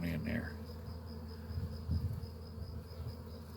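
Honeybees buzz and hum steadily around a hive entrance as foragers carry pollen inside, a continuous close insect drone throughout with no talking.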